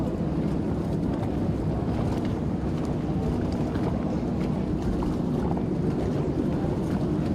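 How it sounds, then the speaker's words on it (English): Distant F1 racing boats at a water ski racing championship in Gosford, NSW, give a continuous roaring engine drone blended with heavy wind buffeting on the microphone, loud and unbroken throughout. "As our leading F1 boats come around the top turn here"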